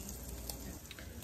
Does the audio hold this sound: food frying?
yes